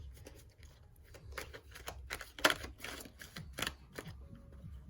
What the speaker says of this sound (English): I'm just shuffling here and I will choose the cards.